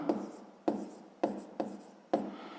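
Close handwriting on paper while a math problem is worked out, five crisp scratchy bursts of pen strokes at a steady pace, each starting sharply and fading.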